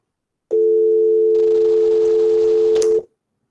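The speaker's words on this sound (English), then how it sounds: "Hopefully you heard that audio playing on my computer, and it was just a standard dial tone." A standard telephone dial tone generated on a computer in GNU Radio, heard as one steady, loud continuous tone lasting about two and a half seconds, alone with no other sounds.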